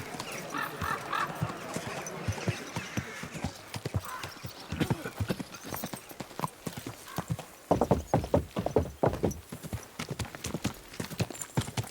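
Horse hooves clip-clop in Kingdom Come: Deliverance II, steady rhythmic hoofbeats on hard ground that grow louder and sharper toward the end, with a whinny early on.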